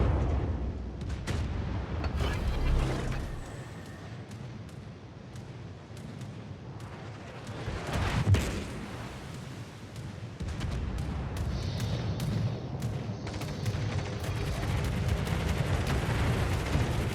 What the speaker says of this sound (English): Now that is a face full of torpedoes.